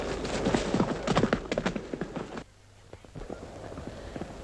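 Horses galloping away, a fast clip-clop of hooves that is loud and close at first, then drops sharply in level and carries on more faintly as they move off.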